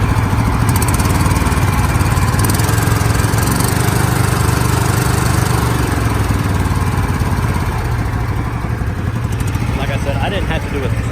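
A scrapped Craftsman DYT400 riding lawn mower engine runs loud and close, a steady rough mid-pitched drone with a fast chugging pulse that holds evenly throughout, while a person talks over it.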